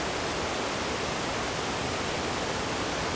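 Brudslöjan (Bridal Veil) waterfall at the southern end of Lake Vänern, Sweden, heard as a steady, loud, broadband rush of falling water with no pauses or voices.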